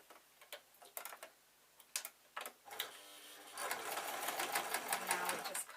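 A sewing machine stitching the sole of a zebra-print fleece bootie slipper, starting with a few sharp separate ticks and short bursts, then settling into a continuous close rattling run of stitches.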